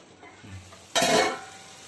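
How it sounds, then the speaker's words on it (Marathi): Steamed jawla, a delicate Kokani-style dried-shrimp dish, is turned over in a pan, giving a brief, close scrape and rustle of stirring after a quiet start. "आता थोडा थोडंसं आपण मिक्स करून घेऊया वर खाली करून घेऊया"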